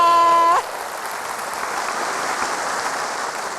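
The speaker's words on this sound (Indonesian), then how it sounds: "Tepuk tangan untuk Jakarta." At a Jakarta anniversary show, a held tone from the stage cuts off and an audience's applause follows, a broad, even patter of many hands that carries on at moderate loudness to the end.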